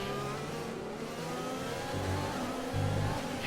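An F1 2020 race car engine in the video game on the Spanish Grand Prix circuit, a steady high-revving whine with small pitch shifts as it heads through the final corner, continuous and fairly loud.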